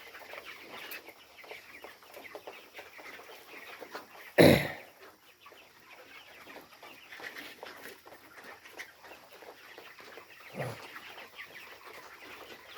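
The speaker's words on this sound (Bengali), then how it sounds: "৯০০ মুরগি খাবার খাচ্ছে।" About nine hundred chickens feeding in a poultry shed, a constant dense murmur of clucks and pecking with one loud sudden squawk or wing flap midway and a smaller one later.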